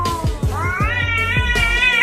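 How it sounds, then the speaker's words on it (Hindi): Cats yowl and meow angrily, drawn-out rising wails repeating over a couple of seconds, close and loud. "यहाँ एक बिल्ली दूसरे बिल्ली को घूर रही थी और उसके ऊपर गुस्सा कर रही थी।"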